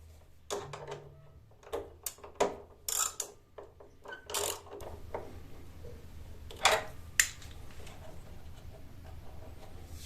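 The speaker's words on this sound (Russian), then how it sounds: "И зажимаете данную гайку." A ratchet tightens a nut on the heating element of a Samsung washing machine. Bursts of clicking ratchet strokes come close up at first, then thin out over a steady low background hum.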